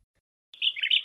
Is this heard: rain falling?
no